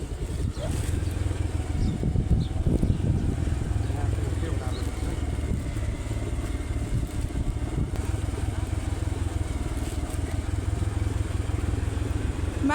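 A motorcycle carrying a family of three runs along a steep, winding mountain shortcut road near Budha Subba temple, its engine a steady rumble mixed with wind buffeting throughout.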